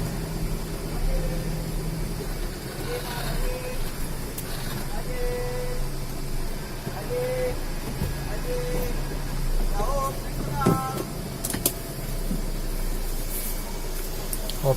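An automatic car wash machine sprays water over a car with its gear in neutral, a steady hissing wash under machinery hum, while someone talks intermittently nearby.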